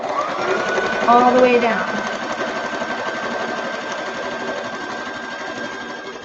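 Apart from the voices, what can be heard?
sewing machine stitching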